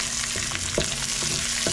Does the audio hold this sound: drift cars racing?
no